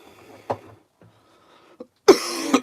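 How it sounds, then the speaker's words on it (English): A person painting a Tyranid Dimachaeron miniature coughs several times, a sharp close cough at the start, smaller ones after, then a louder burst of coughing at the end in an otherwise quiet room. "Sorry for the coughs."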